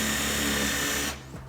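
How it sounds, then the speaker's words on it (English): A power drill fitted with a countersunk pilot hole bit whines steadily at high speed while drilling during a wetroom shower installation, then stops abruptly, close and loud. "get some countersunk little pilot hole drill bits"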